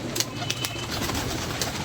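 Kept pigeons coo softly amid a busy, noisy background with occasional sharp clicks and rustles.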